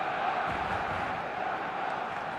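Stadium crowd noise in the eFootball video game, a continuous dense roar of many voices with a faint chanting quality, steady and level throughout, while a commentator talks over it.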